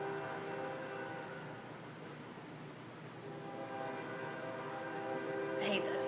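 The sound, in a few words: train passing by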